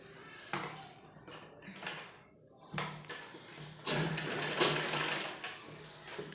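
A sewing machine stitches a kurti sleeve onto the body piece in short bursts of close mechanical whirring separated by brief pauses, the final run longer and louder.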